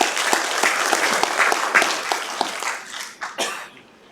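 An audience at a climate and carbon-neutrality policy forum claps to welcome the absent governor, dense close applause that thins out toward the end, with a cough and throat clearing near the finish.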